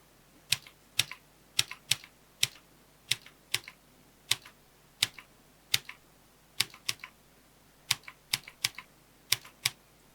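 Rapid typewriter keystrokes clack in an irregular stream of sharp, close, loud strikes with short pauses between bursts, heard alone and synced to an animated text effect.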